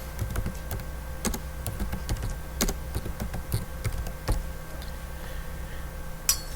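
Keys on a computer keyboard tapped while text is typed, irregular light clicks spaced apart over a faint steady room hum, with no voices.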